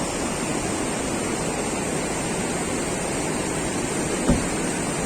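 Perunthenaruvi waterfall in Pathanamthitta, below a dam, produces a steady, full broadband roar of cascading water, constant and close with no pauses, interrupted only by a single brief thump.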